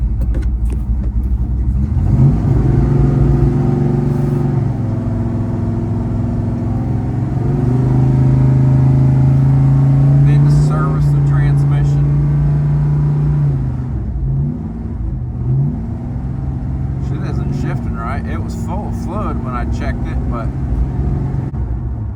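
A 1970 Dodge Charger, misfiring and with a low brake pedal, drives down the road after sitting for years, its V8 droning loud and close, rising and falling with throttle while someone talks over it.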